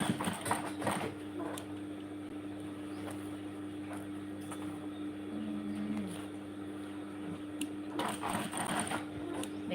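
A sewing machine stitches a bag in a short run, a steady close mechanical whir with a low hum and faint clicks throughout, no voices.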